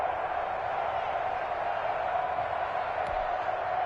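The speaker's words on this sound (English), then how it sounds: "the crowd getting into it as we come up on a big 3rd down" Stadium crowd in a PS4 American football game building up ahead of a big third down, a steady, distant roar of cheering that holds throughout with no clear peaks.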